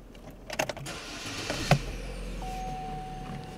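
A Chevrolet Cruze starts up from inside the cabin, with a brief crank and catch followed by a steady idle and a thin whine, a few clicks and thumps from the driver's seat early on.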